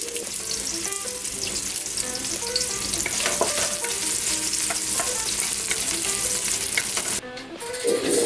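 Onion sautéing in a hot pan for Filipino menudo, a steady loud sizzle of frying with stirring scrapes throughout, briefly dipping near the end before resuming.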